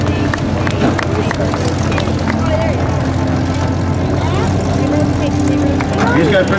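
MX-2 tailwheel aerobatic airplane taxiing at the Great New England Airshow, a steady propeller-engine drone under constant crowd noise and voices, loud and continuous throughout.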